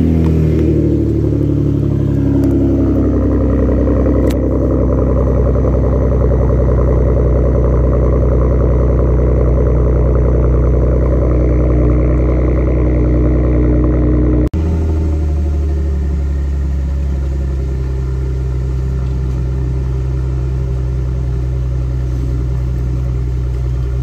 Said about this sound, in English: A little cold start.